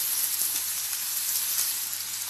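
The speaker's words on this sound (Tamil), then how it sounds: "இதை நல்லா வதக்கிக்கிட்டு இருக்கேன்." Steady sizzling of three finely chopped large onions frying in a hot pan, a continuous bright hiss with faint crackles, close up and alone.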